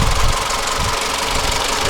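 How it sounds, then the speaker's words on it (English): A 2022 Lexus NX 350 AWD Luxury's turbocharged engine runs steadily close by, a loud, even, broadband mechanical drone with a slight knocking texture and no voices. "There's that turbo engine"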